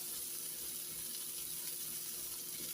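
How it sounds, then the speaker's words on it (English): Pan-seared chicken breast sizzling steadily in a hot pan after the heat is turned down, a soft continuous hiss and crackle held at an even, fairly quiet level without talk. "I'm just going to let this sit here and sizzle away"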